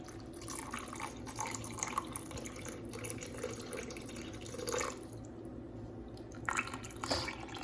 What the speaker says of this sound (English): Go ahead and add this broth in here.